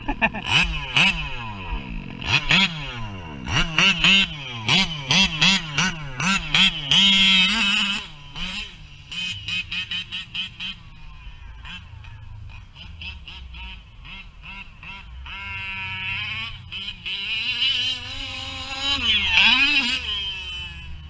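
A 1/5 scale nitro-powered RC race car engine revs hard and repeatedly, its high buzzing pitch sweeping up and down in rapid bursts of throttle, loud and close throughout with a few steadier passages.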